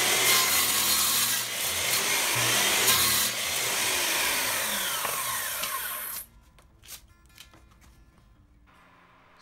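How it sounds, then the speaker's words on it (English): A walnut desk organizer bottom is sanded flat: dense, loud abrasive rubbing and rasping against wood for about six seconds, then it stops abruptly, leaving a quiet room with a few faint knocks. "So I end up having to make another bottom for it and sanding the previous bottom completely flat"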